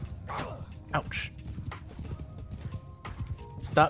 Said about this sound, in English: Stop shooting my horse.